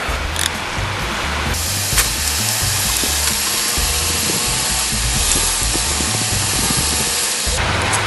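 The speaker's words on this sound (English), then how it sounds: "We'll take our air hose and blow some of this fluid away so we don't contaminate our pump grease." An air hose blows fluid off a personal watercraft jet ski engine in a loud continuous hiss with a few short bursts, close by and without speech.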